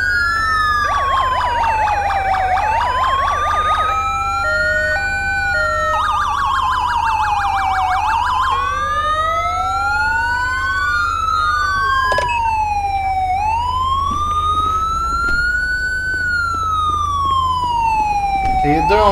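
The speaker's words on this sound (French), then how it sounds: "Les deux chars n'ont pas la même sirène." Two Sûreté du Québec police car sirens sound together, loud and close, their different wailing and yelping tones sweeping up and down and overlapping continuously.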